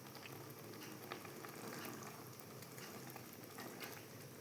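Gongura dal with tempering simmers in a pot, a continuous soft bubbling and sizzling at low volume, steady throughout with no talk.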